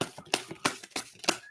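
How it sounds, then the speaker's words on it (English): Tarot cards being shuffled by hand make a rapid run of close, crisp riffling flicks and snaps in short bursts, faint overall. "So I don't think I'll be able to shuffle in this position, but actually I do"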